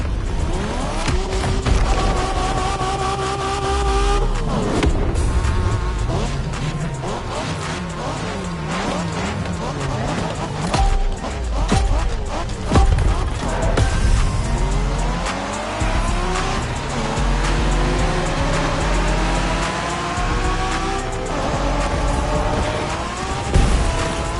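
Japanese street racing in The Crew Motorfest, with engines revving and shifting through gears, tires squealing and skidding, loud and continuous throughout.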